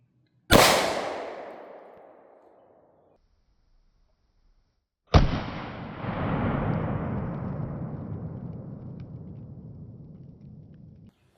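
Two loud gunshots from a Glock G40 10mm pistol with a 6.02-inch barrel ring out a few seconds apart, each a sharp crack trailing into a long echoing decay, with no talking.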